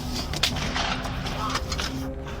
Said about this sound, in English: More shots being fired right now.